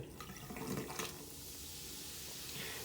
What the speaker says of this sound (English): I'm going to take the vinegar and pour about a quarter cup, half a cup down in there